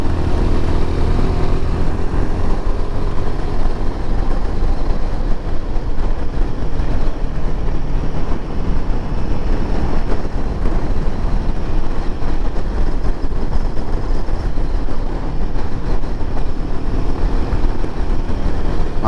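Royal Enfield Himalayan 450 motorcycle on the move: loud, continuous engine drone mixed with heavy wind rumble throughout, steady with no breaks or voices.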